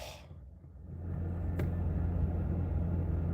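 A Ford Shelby GT350's engine settles into a deep, steady low rumble after a quieter start, close and loud, with a single sharp click partway through.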